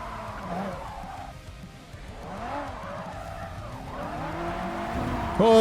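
A loud car engine revving and tires squealing while drifting in the Japanese Drift Master racing video game, with pitch sweeps rising and falling continuously and a sharp squeal near the end.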